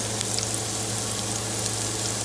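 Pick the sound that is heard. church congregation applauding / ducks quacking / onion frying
onion frying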